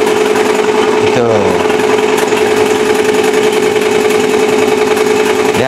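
A braille printer imported from Norway runs continuously, giving a loud, rapid mechanical chatter with a steady tonal hum and rhythmic embossing clatter, while people talk over it.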